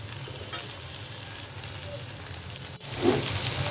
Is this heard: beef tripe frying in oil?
yes